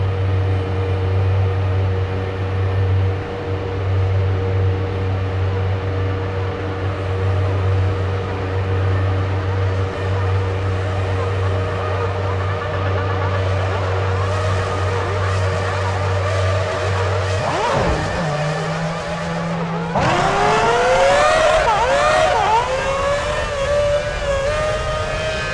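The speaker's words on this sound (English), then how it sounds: "The grid is clear, the drivers are ready, and off they go on their parade lap." Formula 1 cars in the F1 2006 video game on PS3 pull away for the parade lap in Canada: a steady engine drone holds, then near the end a loud chorus of engines revs and climbs in pitch.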